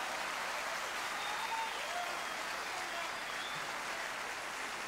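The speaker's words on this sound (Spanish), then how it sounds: "Gracias por sus aplausos." Sustained applause from a large crowd at the Festival del Huaso de Olmué, a dense steady wash of clapping throughout with faint whistles or cheers mixed in.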